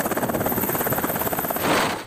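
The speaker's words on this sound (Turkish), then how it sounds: "Bölgeye askeri helikopter sevk edildi." A military helicopter sent to a snowbound hamlet, its rotor chopping in a steady rapid pulse that fills the clip loudly, swelling slightly near the end, with no voices.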